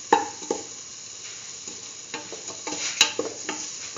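A chayote and green peas stew with asafoetida and chili powder stirred in a pan, with spoon clinks and scrapes at irregular intervals over a light, steady sizzle.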